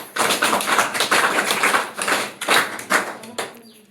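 Classroom children clap for their teacher in a few uneven, loose bursts of small-group hand clapping, close and fairly loud, tapering off at the end.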